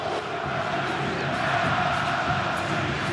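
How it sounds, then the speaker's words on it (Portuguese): Vasco supporters in a packed stadium sing and chant loudly during a 2011 Brazilian championship match against Grêmio, a dense, continuous crowd roar with no break. "Canta alto, canta bonito a torcida do Vasco."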